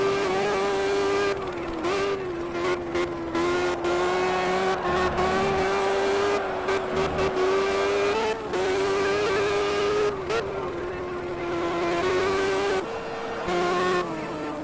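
Race car engines in Project Cars: a loud, sustained high-pitched engine drone holds steady with small pitch shifts and brief dips, as if from a car revving near the listener, with no talk.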